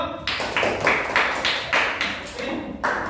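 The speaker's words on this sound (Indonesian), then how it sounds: "Tepuk tangan untuk kelompok 2" A classroom of students applauding a group, clapping in a steady rhythmic pattern of separate sharp bursts, close and fairly loud, with no talking over it.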